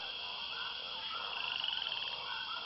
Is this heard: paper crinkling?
no